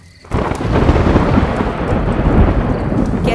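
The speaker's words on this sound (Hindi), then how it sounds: "कैसे बारिश कर रहा है।" Heavy rain and thunder break in abruptly, then hold as a loud, continuous, rumbling roar of a downpour.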